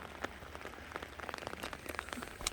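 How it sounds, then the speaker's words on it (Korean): Rain pours steadily at the ruins of Yeongwonsa temple site, a dense, faint patter of drops crackling on surfaces with no voices. "비가 주룩주룩 내고 있는데"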